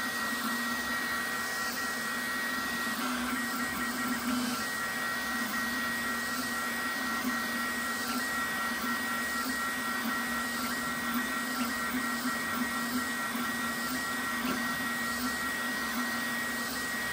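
A Sovol SV08 3D printer running a PETG print, a steady loud mechanical whir with a constant fan hum and faint stepper whine, continuous and close, with no voices.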